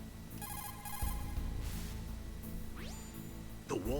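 A codec call rings in the Metal Gear Solid video game: repeated electronic ringing bursts over dense game music and ambience, then a rising synthetic sweep near the end.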